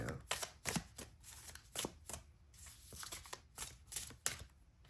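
Tarot cards being shuffled by hand, heard as quick riffling bursts and soft slaps in an irregular rhythm, close but fairly quiet, with no voice over them.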